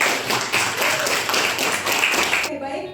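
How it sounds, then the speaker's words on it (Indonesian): Classroom applause from students, a brief burst of quick clapping that runs steadily for a few seconds and then stops abruptly. "Terima kasih Alima, kita beri tepuk tangan."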